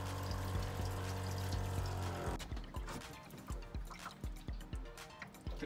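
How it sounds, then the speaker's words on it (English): Water drips steadily from a pipe into a makeshift gray water tank in a cargo trailer camper, a series of distinct plinks after a filling rush of liquid in the opening seconds. "The dripping that we're hearing there is the water coming out of the pipe to my makeshift gray water tank"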